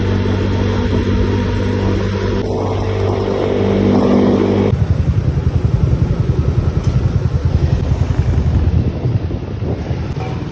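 A Yamaha Mio 4 big-valve scooter with Python ignition, a 28 mm carb and a JBT pipe runs close by, first with a steady humming idle, then a louder, rougher pulsing run under wind rumble.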